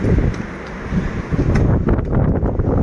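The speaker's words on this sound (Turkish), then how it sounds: "Yumuşak ama rüzgardır." Strong gusts of wind buffet the microphone, a loud rumbling roar that swells and eases over a few seconds with no voices.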